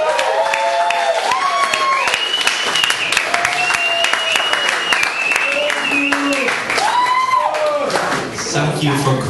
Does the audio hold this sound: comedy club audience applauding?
yes